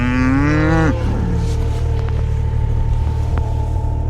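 A cow on a farm with sick calves gives one loud, close moo that ends abruptly, over a steady low rumble of wet, stormy weather.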